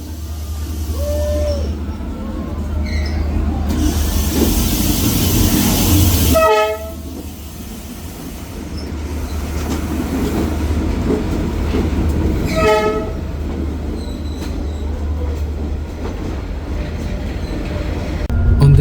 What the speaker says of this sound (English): suddenly, boom, a full-size train passes right through you.